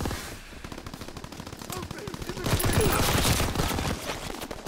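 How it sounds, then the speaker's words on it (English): Sustained machine-gun fire rattles from a bunker in a Call of Duty WWII Domination match in the Ardennes Forest, with rapid overlapping bursts that swell louder midway and continue to the end. "Whoa, they're shooting from the bunker."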